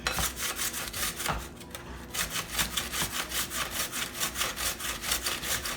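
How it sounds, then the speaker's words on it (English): Vegetables for coleslaw being grated on the large holes of a box grater, a close, rhythmic rasping of quick repeated strokes with a brief pause partway through. "I'm gonna try and use this grater thing because this is my first time using this grater"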